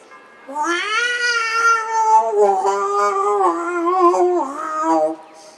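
A human voice imitates a cat singing, giving a long, wavering, melodic meow that rises and bends for several seconds, loud and close with no other sounds.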